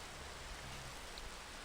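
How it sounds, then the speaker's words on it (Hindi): Rain falls as a soft, steady hiss of drops, faint and continuous, with a low hum in the middle and no voices. "आज की बारिश"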